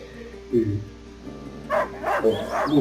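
A dog in the video game A Plague Tale: Innocence gives a few short barks and yips in bursts, close and fairly loud, with voices speaking alongside.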